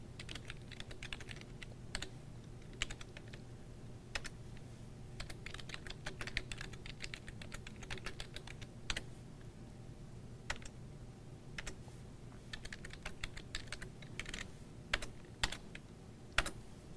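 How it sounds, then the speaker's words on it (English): C++ code being typed on a computer keyboard, with soft, quick, irregular key clicks continuing steadily over a quiet room, now and then a louder tap. "let's just type our usual pound include"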